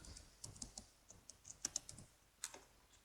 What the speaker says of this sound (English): so I'll just type that.